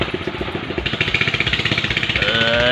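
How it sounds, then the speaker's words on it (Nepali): A boat engine runs on Gajadi Taal lake, a close, steady pulsing chug that builds slightly in loudness and pitch toward the end, with no one speaking. "डुङ्गा चल्न लागिरहेको छ यहाँनिर"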